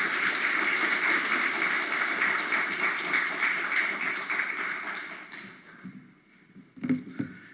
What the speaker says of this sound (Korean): 김동주 목사님 나오실 때 박수로 환영해 주시면 감사하겠습니다